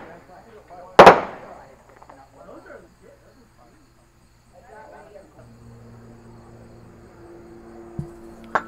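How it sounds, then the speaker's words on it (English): Fireworks go off over a stadium during a championship wiffle ball game: one sharp loud bang, then a few fainter pops and crackles, with a softer burst near the end against quiet crowd background. "as the fireworks fly here at Silver Stadium"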